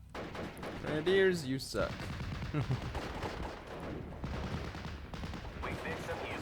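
Rifle and machine-gun fire crackle continuously in the WWII strategy game Steel Division: Normandy 44, a busy battlefield mix of shots under brief radio-style voice lines.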